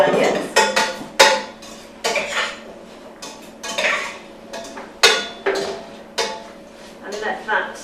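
Celery tipped onto onions in a pan, a run of close, loud clatters and scrapes of a utensil on metal at an uneven pace, with occasional brief sizzle between knocks.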